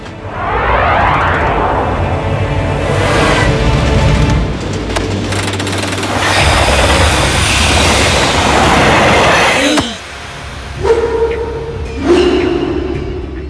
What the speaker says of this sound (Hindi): ये ट्रेन कंट्रोल में नहीं है और ये ट्रैक भी चेंज नहीं हो रहा